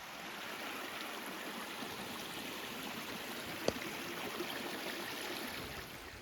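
Steady rushing and trickling of a stream along the Appalachian Trail, a continuous broad wash of water heard close and even throughout, with one brief knock midway.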